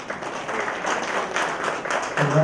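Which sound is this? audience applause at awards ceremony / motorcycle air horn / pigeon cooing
audience applause at awards ceremony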